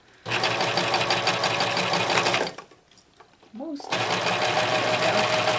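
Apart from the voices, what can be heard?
serger stitching beads with a beading foot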